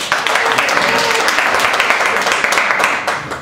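Steady clapping from an audience of women at a comedy show, a dense, continuous patter of many hands filling the room for several seconds with no talk over it.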